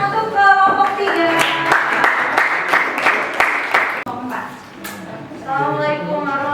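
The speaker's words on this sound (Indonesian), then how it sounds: "Tepuk tangan untuk kelompok 3." A classroom group of students receives applause: dense, bright clapping from several people fills the middle seconds, with voices speaking before and after and a brief lull partway.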